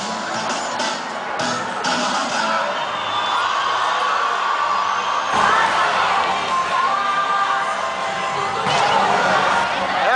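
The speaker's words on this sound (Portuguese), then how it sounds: "Essa é a torcida do Palmeiras" Palmeiras football fans cheering and shouting as a dense crowd, a continuous roar of many voices with whoops, steady and loud throughout.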